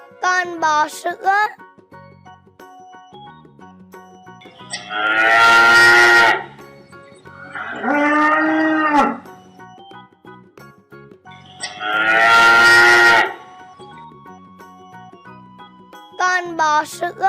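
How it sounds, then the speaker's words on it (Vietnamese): A dairy cow gives three long, loud, drawn-out moos, each lasting over a second with gaps between, along with short bright chimes and jingles of a children's animal-sounds video. "Con bò sữa."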